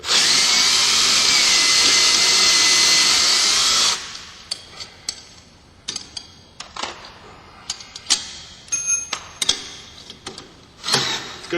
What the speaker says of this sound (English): if you got yourself a decent drill, and you got an end on it for a socket, these bolts come off real easy.